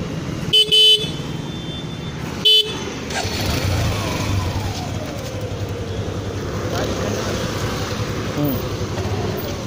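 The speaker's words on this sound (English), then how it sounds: "This is the horn of Suzuki Intruder." A Suzuki Intruder 150cc cruiser motorcycle sounds its horn in a few short, loud, close beeps near the start, then the engine idles and wind rushes past for the rest of the clip.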